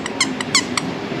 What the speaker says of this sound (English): if you want to get them a squeaky parrot, they're gonna tear that to shreds